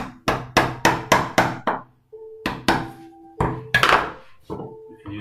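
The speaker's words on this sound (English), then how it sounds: "We'll use a smaller chisel, 18mm chisel here. We want to angle the chisel roughly 30 degrees" Mallet blows drive an 18mm wood chisel held at about 30 degrees to cut a trench in wood, in a quick run of five or six sharp knocks, a pause, then further single heavy strikes, close and loud.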